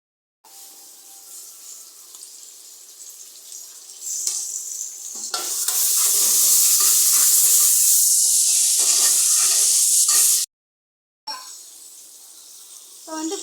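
Onions and tomato for mushroom biryani fry in a pan with steady, loud sizzling and hissing, broken by stirring scrapes; the frying swells louder midway, drops out briefly, then resumes close up.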